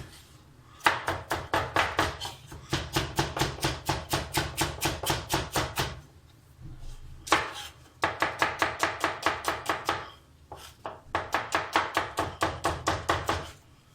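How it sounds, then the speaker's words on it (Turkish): A knife finely chops carrots, onion and garlic rapidly and rhythmically on a cutting board in several long bursts of close, crisp, evenly spaced strokes with short pauses between. "havuç, soğan ve sarımsağımı da ince ince doğruyorum"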